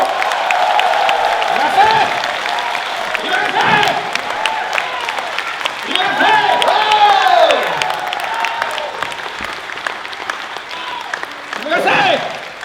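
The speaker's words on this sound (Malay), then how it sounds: "3, 2, 1, audience semua tepuk." Steady applause and cheering from a crowd fills the room, with scattered whoops and shouts rising and falling throughout.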